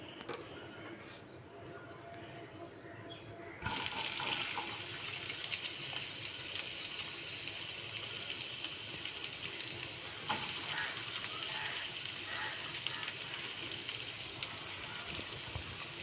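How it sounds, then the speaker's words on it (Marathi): Onions hit hot oil in a kadhai for an Indian vegetable bhaji and set off a sudden, strong, continuous sizzle. A quieter hiss comes before it, and the frying stays loud and steady. "आता त्यात कांदा टाकूया।"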